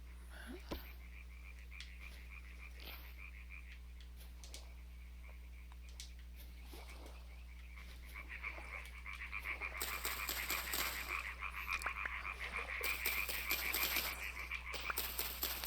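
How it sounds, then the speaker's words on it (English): Frogs croak in a video game set by a river, a dense chorus of rapid rhythmic croaks that holds steady and then grows louder and busier toward the end, with no talking. "I couldn't hear them coming because of all the deafening frogs"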